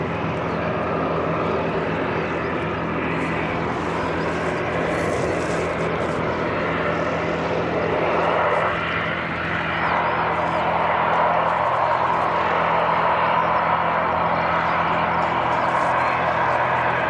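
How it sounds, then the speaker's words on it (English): A Boeing C-17 military transport's jet engines give a continuous loud roar at Christchurch Airport, New Zealand, in wet weather. The broad rumbling drone stays steady throughout and swells slightly toward the end. "some good noise coming off the aircraft now"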